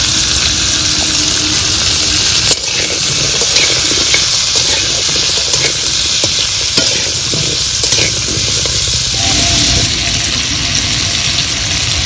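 Papaya and vegetables seasoned with salt and turmeric frying in a pan, a loud, continuous sizzle with occasional scraping stirs throughout, close and steady with no talking.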